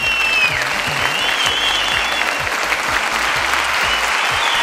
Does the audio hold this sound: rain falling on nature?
no